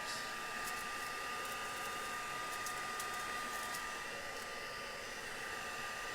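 A heat tool melting embossing powder on a stamped card blows a steady, even whirring hiss that stays constant and close throughout, with no speech.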